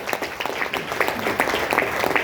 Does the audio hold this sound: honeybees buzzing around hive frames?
no